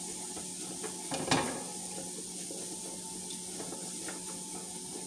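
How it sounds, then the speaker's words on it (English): Vegetables steaming and sizzling in a pan beneath fish being cooked for steamed salmon, a steady faint hiss and crackle with a brief louder clatter near the start. "Can't you hear the vegetables steaming and sizzling already?"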